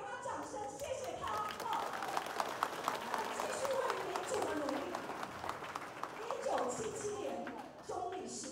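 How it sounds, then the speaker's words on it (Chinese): A crowd at a political rally claps and cheers in a continuous, moderately loud wash, while a voice keeps speaking over the applause throughout. "我们给他掌声，谢谢他。"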